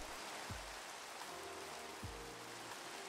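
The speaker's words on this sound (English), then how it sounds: "Yep, rain, look at that." Steady rain in a video game, a continuous soft hiss of falling water, with two low thuds partway through.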